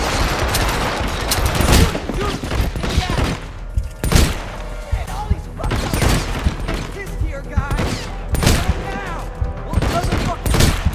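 Dense gunfire from Hitman Absolution, with rapid bursts of shots and booms that carry on for eleven seconds alongside game voices and other action noise.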